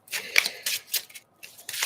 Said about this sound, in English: Tell me while I shuffle.